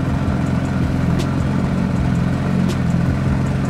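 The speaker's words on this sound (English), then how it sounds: "when we open up the exhaust" A 2019 Porsche GT3 RS idles with its exhaust opened up, a steady, deep exhaust rumble, loud and close, running evenly throughout without revving.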